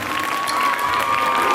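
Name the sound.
audience applause for teachers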